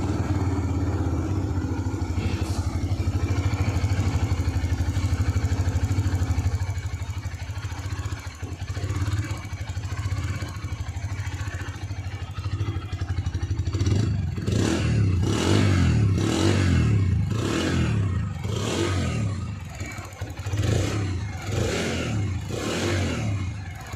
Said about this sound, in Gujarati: હવે આપણે બાઇક ચાલુ કરીને જોઈ લઈ.